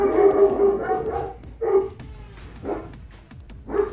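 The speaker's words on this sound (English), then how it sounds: "My dogs are barking." Several dogs bark and howl indoors in a few loud bursts with pauses between, close by and with no talk over them.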